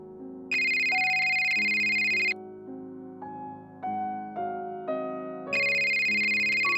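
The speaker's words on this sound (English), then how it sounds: "My phone." A phone ringtone plays loudly and steadily, a looping electronic melody of bright sustained tones with no talk over it.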